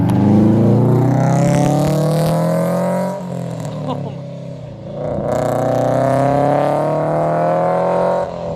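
Supercharged Scion FR-S with a manual gearbox driving hard, its engine loud and close, climbing through revs, dipping briefly at a shift, then pulling again, with people talking inside the car.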